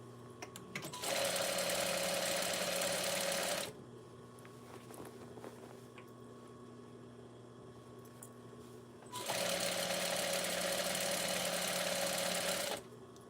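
A sewing machine stitching a baby blanket runs in two steady bursts of a few seconds each, a loud even motor whir with a pause of quiet room noise between.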